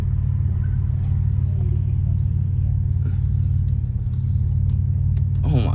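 A Pontiac car engine with its catalytic converters removed holds a deep, steady exhaust rumble from close by, with faint low voices under it near the end.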